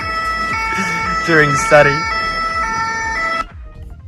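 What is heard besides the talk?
ambulance siren in Paris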